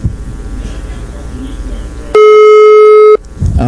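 A loud telephone busy tone on an unanswered call sounds as one steady electronic beep lasting about a second, with bursts of speech before and after it.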